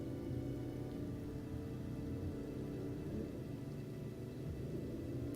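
Rain falls in the video game Final Fantasy XV as a steady, soft hiss with a low rumbling bed, continuous and even throughout, with no voices.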